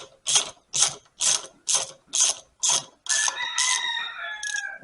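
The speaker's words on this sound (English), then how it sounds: "So now I'm just going to use a ratchet and a socket to kind of run them down." Ratchet wrench with socket running down bolts on a 1947 Ford 8N tractor: six loud, evenly spaced clicking bursts close up, then a longer continuous ratcheting run, with no talk.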